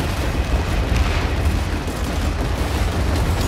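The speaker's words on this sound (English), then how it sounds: "So many explosions, so many tanks." Explosions, tank fire and artillery booms rumble without a break in a Planetside 2 battle, overlapping into a dense, loud wall of blasts and gunfire that never lets up.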